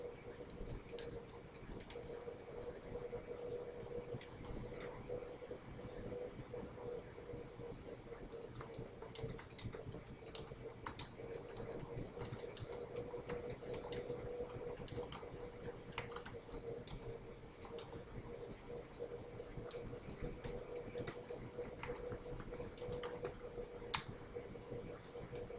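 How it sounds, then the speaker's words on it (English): Quiet, continuous typing on a computer keyboard, with rapid soft key clicks in uneven bursts and short pauses, heard close up. "I can feel mistakes as I'm typing"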